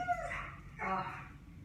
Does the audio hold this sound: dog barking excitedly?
yes